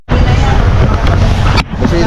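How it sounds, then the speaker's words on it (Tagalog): Strong wind buffets the microphone in loud, rumbling gusts, nearly drowning everything else, with a brief dip partway through. "medyo mahangin."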